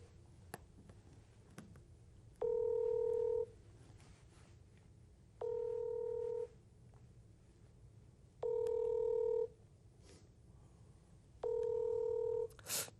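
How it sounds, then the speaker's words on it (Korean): Telephone dialing tones placed before a phone call: four evenly spaced, steady tone bursts, each about a second long, sound over a quiet background hiss with no talk. "블록포스트의 국장님한테 좀 전화를 해보려고요"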